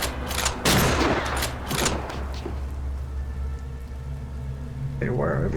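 Sniper gunfire in the RealRTCW video game: a few sharp, loud reports near the start that fade into a rough, noisy background, with a voice talking over part of it.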